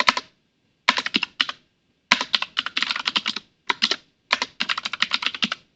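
Rapid bursts of typing on a computer keyboard while entering Python code comments for a GUI program: close, crisp key clicks in several quick runs separated by short pauses, with no voices.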